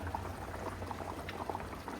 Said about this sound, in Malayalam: മീൻകറി അങ്ങനെ തിളച്ച്